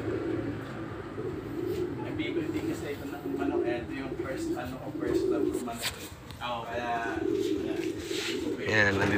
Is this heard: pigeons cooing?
yes